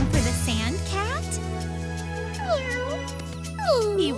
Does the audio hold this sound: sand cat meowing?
yes